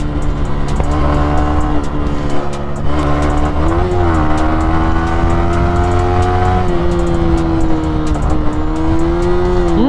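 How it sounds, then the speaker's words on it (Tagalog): A loud motorcycle engine drones steadily throughout, its pitch dipping and rising through downshifts as the revs change, with engine-braking crackles and pops along the way. "Narinig nyo yung engine brake"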